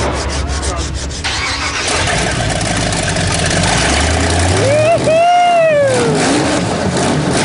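A car engine cranks and catches, then settles into a loud, rough idle with a brief rev; voices talk over it.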